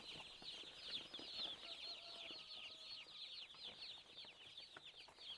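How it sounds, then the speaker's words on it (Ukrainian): A crowd of chicks of various breeds, including broilers, cheeping in high, rapid chirps, constant and overlapping, with occasional soft rustling and flutters nearby. "Ось стільки курчаток ми сьогодні привезли."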